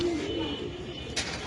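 Pigeons cooing softly on a farm in Mirpur, a short low murmuring coo under faint background voices.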